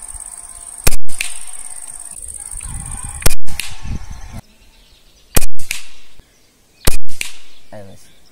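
Four sharp, loud shots from a Gamo Shadow DX .22 air rifle firing pellets at a target about 35 metres away, spaced a couple of seconds apart, each a crisp crack with a brief spring twang and quiet background between.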